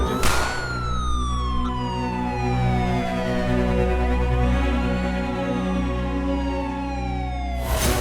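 An ambulance siren wails loudly and continuously, its pitch sweeping down and rising again as the vehicle passes close by.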